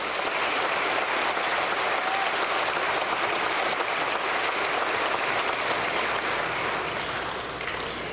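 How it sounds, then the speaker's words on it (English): A large audience at a high school commencement ceremony claps steadily for about eight seconds, a dense even wash of applause heard from within the crowd at moderate volume, tapering slightly at the end. "Let's give them a round of applause as well."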